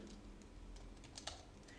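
Typing on a computer keyboard: quiet, irregular key clicks with one sharper tap near the end, set against a faint background hiss.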